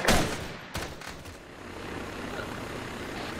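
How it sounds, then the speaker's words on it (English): Distant gunfire in the military game Arma 3, heard from a helicopter landing zone: an opening crack and a second burst near the start, then a steady engine-like rumble underneath, with no talking. "Shots fired to our north."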